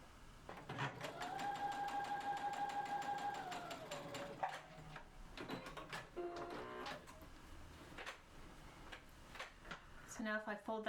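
A sewing machine runs steadily as it stitches a straight diagonal seam through fabric for a throw pillow, a fast even mechanical whir that lasts several seconds, then stops for quieter handling noises and a brief return near the end.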